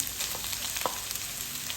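Garlic and onion fry in hot oil, giving a short burst of continuous close sizzling hiss with a few soft crackles and no voices.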